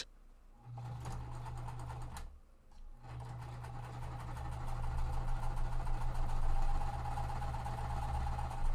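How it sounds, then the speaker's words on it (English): A sewing machine stitches quilt pieces at a quarter inch seam allowance, running in a steady whirring hum with a brief pause before starting up again and continuing without stopping, close and fairly quiet, with no voices. "I'm sewing at that full 1/4 inch seam allowance."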